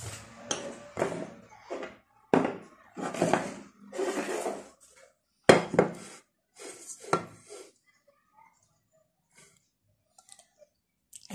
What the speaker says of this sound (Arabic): هنا غادي ناخذ الكوكوت ديالنا